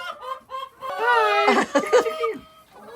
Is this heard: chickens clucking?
yes